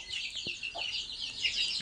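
Broiler chickens cluck inside a coop in short, faint, overlapping calls, with a steady high-pitched chatter from the flock behind them.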